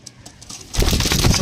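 Domestic pigeons coo in a household loft, soft calls near at first before a louder, fuller burst of cooing and fluttery rustle swells up close over the last half-second.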